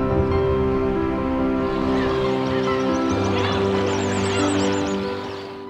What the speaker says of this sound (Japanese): 春はつがいで鳴き合いながら求愛や交尾が行われます。